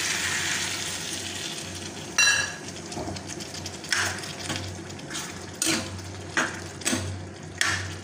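Taro flower fry sizzles in a pan after water is added, a steady, moderate hiss with intermittent louder bursts and occasional utensil clatter, no voices.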